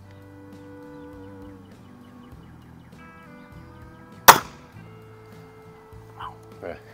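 Weihrauch HW50S spring air rifle firing outdoors, a single sharp crack followed by a short mechanical twang, with a couple of faint thuds afterward over quiet background tones.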